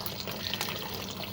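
Sparge water draining off during home brewing of an oak rum ale, a continuous close splashing, trickling flow like a filling tap, steady in level with faint drips and no voices.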